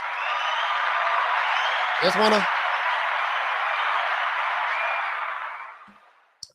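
Sustained audience applause, a broad dense wash of clapping that holds steady for several seconds before fading out, with a brief spoken word cutting through midway.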